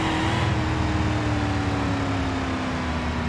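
Engine of an old car driven in the BeamNG driving simulator, a steady droning hum with a slowly falling tone, held at constant volume with no talk.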